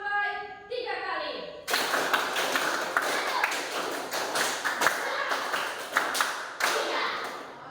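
Children in a fourth-grade classroom clap in a counting clap game, a run of sharp, quick hand claps starting after a short spoken lead-in and continuing in uneven bursts with accented beats, near and fairly loud.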